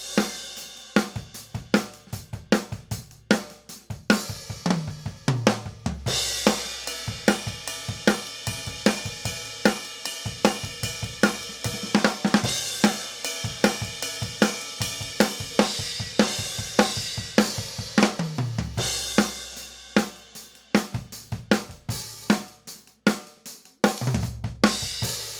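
Full drum kit played as a groove through an XY stereo pair with capsules close together at ninety degrees, steady kick and snare hits under constant bright cymbals, punctuated by a few tom fills and crash accents.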